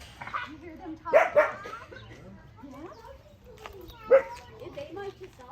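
At a wildlife conservation center, wild canids let out a couple of brief barks and yips, moderately close, mixed with people chatting in the background.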